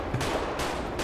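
Gang members firing guns in a video game, three rapid sharp gunshot cracks in quick succession, loud and close with no talking.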